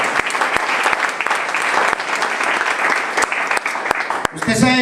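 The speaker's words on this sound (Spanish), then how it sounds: "Denle un aplauso fuerte al Señor" A church congregation claps loudly and steadily throughout, with dense, continuous applause and a few sharper individual claps, before a voice breaks in at the very end.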